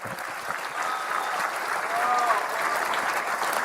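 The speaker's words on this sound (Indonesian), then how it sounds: "Kita tepuk tangan untuk Pak Joko" An audience at an Indonesian Independence Day event with President Prabowo applauds a farmer, Pak Joko, with steady, moderately loud clapping that swells slightly and continues for several seconds.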